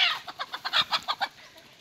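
Colorful village-breed desi rooster on a Konkan backyard poultry farm clucking close by: a quick run of about nine short, sharp clucks in even rhythm, fairly faint and alone.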